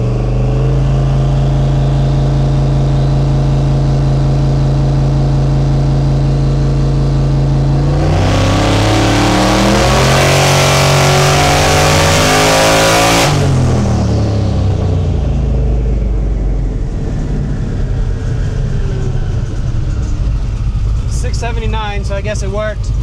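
Loud twin-turbo Ford Fairmont engine with Holley EFI on a dyno, a deep steady idle that surges into a hard, roaring rev for several seconds, then drops back to a rumbling idle.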